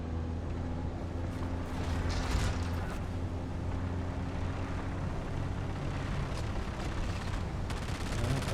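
Continuous dense rumble with scattered distant gunshots and bursts of rapid fire in the game Dune: Awakening, like a battle heard through engine or aircraft drone.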